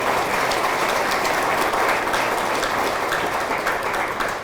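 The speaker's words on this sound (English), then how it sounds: "That deserves applause right there." Steady applause from an audience at a high school athletic hall of fame induction ceremony, a dense, even wash of clapping filling the room without pause for several seconds.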